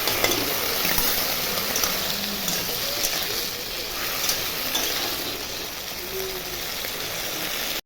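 Okra and vegetable stems frying in a pan, a steady, moderately loud sizzle and crackle with occasional scraping stirs and faint utensil clinks throughout.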